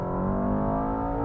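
A 2024 Mercedes-AMG S63 with its sound enhancement switched on gives a smooth, steady engine and exhaust drone from inside the cabin, rising slightly in pitch as the car pulls forward.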